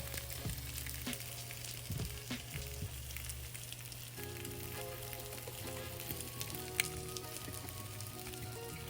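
French toast frying in butter and oil in a pan, a steady close sizzle with light crackles and pops running throughout, no talking.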